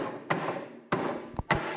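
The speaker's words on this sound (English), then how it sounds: "an axe and strong muscles do the job better. So back to the axe, chopping" An axe chops wood for a handmade designer table, giving three sharp, hard strikes spaced out over about a second and a half, each with a short woody ring and a small tap between the last two.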